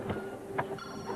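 A mobile phone rings in a French TV blooper scene, a short electronic ringtone with a few chirpy pulses over a steady tone, close and moderately loud with no talk.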